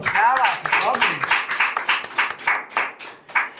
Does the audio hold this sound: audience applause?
yes